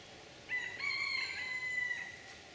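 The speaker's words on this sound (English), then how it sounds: "That chicken must be right over there." A rooster crows once from a short distance in the Honolua Bay forest on Maui, a single drawn-out cock-a-doodle-doo heard clearly over quiet background.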